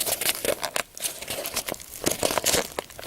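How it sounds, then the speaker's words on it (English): Crinkly plastic is pulled and torn by hand in quick irregular bursts, close and fairly quiet. "I can just rip this open with my bare hand"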